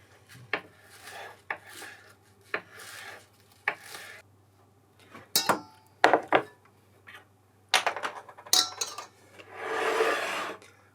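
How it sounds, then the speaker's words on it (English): Knife strokes on a board while chopping leeks for kimchi, irregular close chops and rubbing scrapes spaced across the stretch, ending in a longer scraping sweep, with no voice. "I'm going to chop some leeks and toss it in there"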